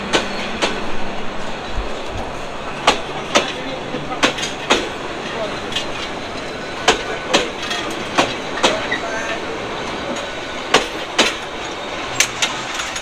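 Inside an intercity train running on rails in Bangladesh, a steady rumble with rhythmic clickety-clack wheel knocks repeating every second or so, with a voice talking over it.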